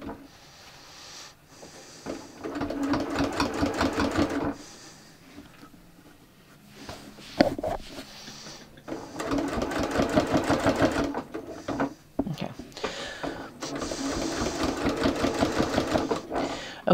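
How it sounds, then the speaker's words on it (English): A sewing machine stitches bias binding onto fabric in several bursts of steady, rapid needle chatter, separated by short pauses, close and fairly loud with no talk over it. "Now I can start stitching, and again, I can move my needle over if I need to"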